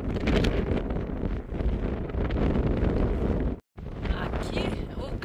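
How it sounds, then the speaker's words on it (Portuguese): Strong wind buffets the microphone on a high desert trail in Capitol Reef National Park, Utah, a loud, steady roaring rush with gusty swells and a brief drop near the end. "agora o vento tá terrível."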